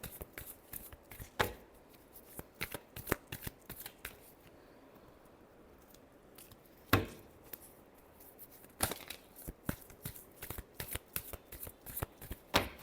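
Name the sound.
shuffling tarot cards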